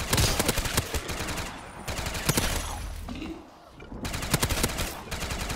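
A machine gun fires in a Black Ops 3 zombies mod with Modern Warfare weapons on the Nacht Der Untoten map. Loud, rapid, sustained bursts of automatic fire break off briefly in the middle, then resume.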